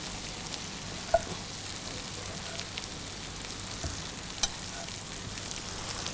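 Spaghetti with cherry tomatoes tossed in a frying pan, a soft continuous sizzle with a couple of brief clinks of the pan, quiet and close, no talking.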